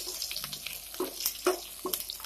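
Cumin, chopped onion and a curry leaf hit hot oil, a quiet crackle and sizzle with a few light clicks of a spoon against the pan, faint and close.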